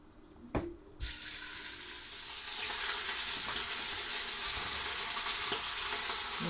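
Beef hits hot oil in a pan after a couple of light knocks, and a loud, hissing sizzle swells up and holds steady and close.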